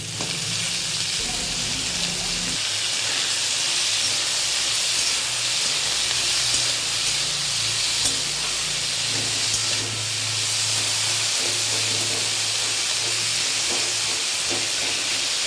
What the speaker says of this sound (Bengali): এটার ওপর এবার আলুগুলো ছেড়ে দেবো